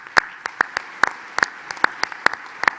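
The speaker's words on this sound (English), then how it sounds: "that is something for which I think JA deserves a round of applause" Scattered claps from a small number of people at a business hall of fame event, about a dozen sharp separate hand claps spread unevenly over a few seconds.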